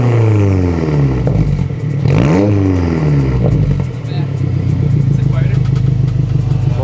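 A 2022 Subaru WRX with a TOMEI titanium rear muffler and no secondary cats idles close by, then gets two sharp throttle blips that sweep up and drop back to a steady burble.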